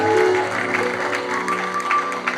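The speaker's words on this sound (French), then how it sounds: "Clap your hands." Members of a church congregation clap their hands in praise, with sharp claps scattered over a steady tonal hum of music or singing, fairly close and lively throughout.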